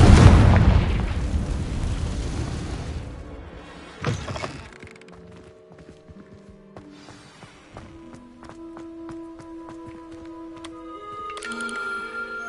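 The Confringo fire spell goes off in Hogwarts Legacy with a loud, close explosive blast and a long decaying rumble, then a smaller burst and soft chiming tones.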